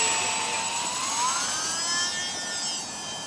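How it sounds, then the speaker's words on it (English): A small E-flite UMX Timber remote-control plane flies over a rooftop on a summer night, its electric motor a steady high whine that rises and shifts in pitch as it passes, fairly close and continuous with no talking. "I've been wanting a little plane for flying off the roof on summer nights"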